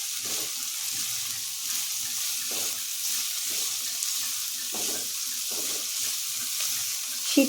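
Mixed winter vegetables fry in a pan with a steady, moderate sizzle broken by soft periodic stirring scrapes and a short clatter near the end; no talking.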